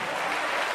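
Church congregation clapping together in sustained, dense applause that fills the space evenly from start to end, with no pauses or separate claps standing out.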